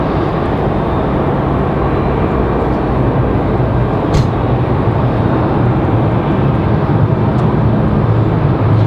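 A Copa Airlines Boeing 737 Max 9 jet at Raleigh-Durham airport gives off a steady, loud, broad engine roar that holds constant throughout with no talk.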